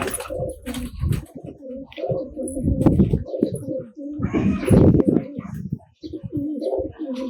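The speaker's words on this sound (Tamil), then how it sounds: "இது சாதா புறா தான்." Pigeons coo in soft, low rolling calls inside a loft housing tumbler and timing pigeons, mixed with someone talking nearby and scattered bird chirps throughout.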